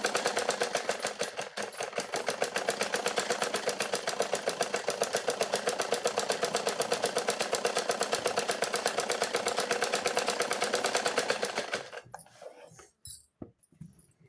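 A sewing machine stitches a blouse sleeve in a fast, steady whir of even needle strokes for about twelve seconds, then slows and stops, leaving a few scattered clicks.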